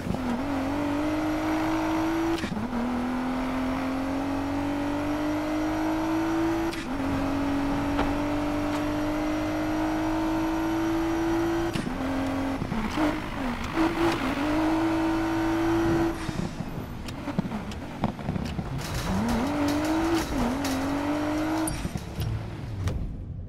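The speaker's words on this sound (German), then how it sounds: "Gib Gas, Jess!" Race car engine in Need for Speed Payback revving hard through repeated gear changes, a loud continuous whine that climbs and drops with each shift, with no talk over it.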